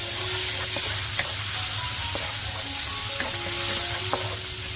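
Onions and shrimp fry in a pan with a steady, close sizzle and a low hum beneath, broken by occasional clicks and scrapes of stirring.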